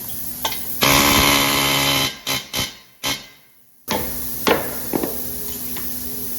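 Several sharp hammer strikes on metal, close and loud, driving valve guides into 7.3 cylinder heads, spaced irregularly over a steady machine hum that cuts out briefly.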